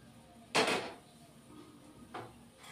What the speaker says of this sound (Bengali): এদিকে কড়াই বসিয়ে দিলাম